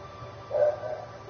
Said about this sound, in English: So if you can hear my dogs barking,